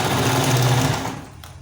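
A sewing machine stitches an elastic band onto a sleeve, a brief close burst of rapid mechanical chatter that runs for about a second and then stops.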